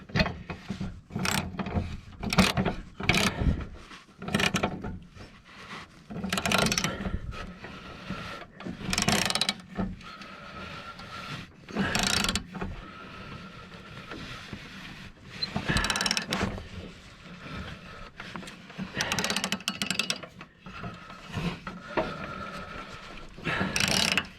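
A ratchet tightens a blade bolt on a Troy-Bilt 42-inch riding mower, with repeated bursts of close, clicking ratchet strokes and short pauses between them.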